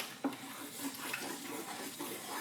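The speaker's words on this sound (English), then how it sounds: "I'm going to stir it together" A spoon stirs tomato stew in a pot for Nigerian red stew, making quiet scraping and soft clinking strokes against the pot, faint and close with low background noise.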